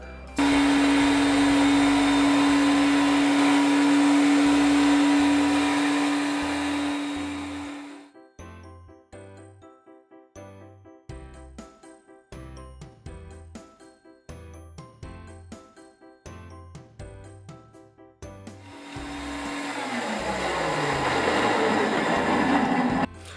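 A carpet extractor cleaning carpet, with a loud, steady machine whine that cuts off to a stretch of quieter clicking and knocking, then roars back up near the end; nearby and prominent, no talking.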